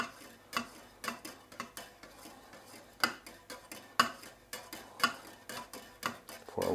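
A grafting wax mixture containing tar being stirred in a pot, with repeated scraping and clinking taps of the utensil against the pot wall in an irregular rhythm, close and fairly quiet.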